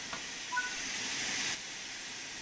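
Steady broadband hiss from the large ejector on a steam locomotive in Train Sim World 5, running continuously for about a second and a half before cutting off and settling into a softer background hiss.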